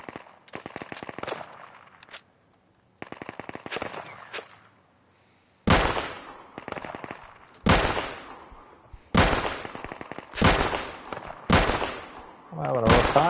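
Gunfire in the survival shooter Deadside: bursts of sharp shots arrive in irregular clusters, some rapid, some spaced out, close and loud, with brief pauses between volleys and occasional talk.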